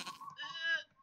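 A sheep in a video game lets out one short, wavering bleat, fairly clear and close, with no talking over it.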